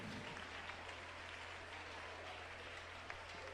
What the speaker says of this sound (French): Sois en train d'acclamer, s'il te plaît, acclame plus fort.